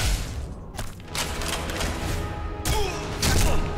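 Enemy gunfire aimed at the player in Sniper Elite V2, a dense run of sharp reports and thuds that keeps on through the stretch, loud and busy with two heavier bursts.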